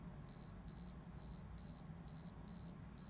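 Crickets chirp in a Sierra video game, a faint, steady train of short, evenly spaced pulses repeating about twice per second over a low background hum.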